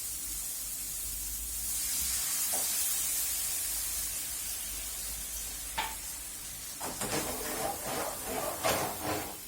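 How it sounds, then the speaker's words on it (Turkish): Cream poured into a hot pan for Alfredo sauce, with a steady close sizzle and hiss, followed by stirring and scraping sounds in the pan; no talking. "kremamızı ekliyoruz"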